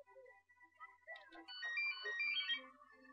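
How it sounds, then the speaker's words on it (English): A phone ringtone plays a melodic electronic tune of bright, tonal notes, growing fuller and louder partway through, heard clearly against a quiet background. "my phone's ringing"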